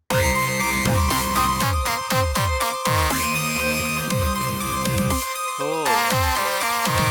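A layered music track from a music director's production, with a basic layer, a beat and filler parts playing together as a continuous, dense mix with rhythmic percussive hits and a brief drop near the end.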